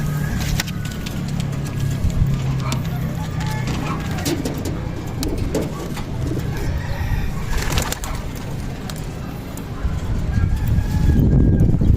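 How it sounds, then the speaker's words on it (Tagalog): Pigeons coo steadily up close as they come out of their enclosure, with occasional wing flaps and soft rustling over a continuous outdoor background rumble. "Ayan, lumabas sila mga kalapatids."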